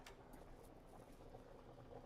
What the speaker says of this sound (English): I'm going to turn it down just a little bit so it's not boiling so vigorously.